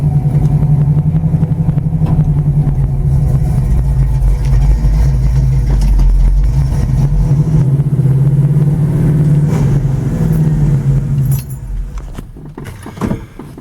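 A 1972 Pontiac Lemans GT (GTO clone) rumbles loudly nearby as it is driven back into a driveway, its engine holding a steady low drone before shutting off near the end.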